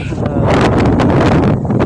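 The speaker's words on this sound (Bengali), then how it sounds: "মাঝে মাঝে দমকা হাওয়া, বৃষ্টি হচ্ছে।" Blustery wind from Cyclone Remal buffets the microphone in rough gusts in Dhaka, with a steady rushing hiss of rain mixed in.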